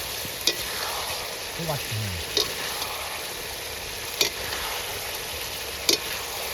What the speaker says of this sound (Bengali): কষানো মশলায় মাছ পড়ছে